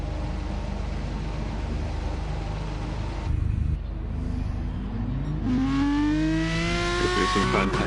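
Gran Turismo Sport Group 3 race cars racing at an Italian circuit in a video game, engines droning loudly and steadily, one car's engine note rising sharply as it accelerates near the end.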